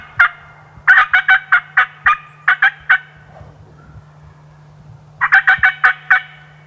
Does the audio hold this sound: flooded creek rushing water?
no